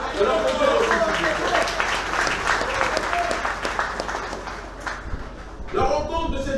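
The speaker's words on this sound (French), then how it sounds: "Je vous demande de l'applaudir." A political rally audience breaks into loud, dense applause that swells and fades over several seconds, ending abruptly before a brief return of sound, with some crowd voices mixed in.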